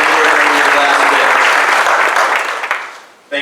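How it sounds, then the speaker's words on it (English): Loud, dense applause from an audience at a university anniversary rededication ceremony, steady for about two seconds before thinning out and fading, then a brief burst at the end. "Can we all give the Sauder family a big round of applause"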